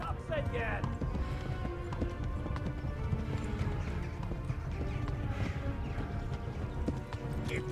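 Rhythmic hoofbeats of a horse galloping in a video game, steady and fairly close throughout, mixed with game sounds while a player talks over it.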